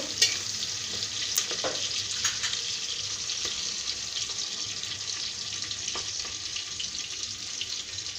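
Onions and spices frying in a pan for a beef and potato curry: a steady bright sizzle with occasional scraping clicks of stirring, moderately close and continuous, with no talking.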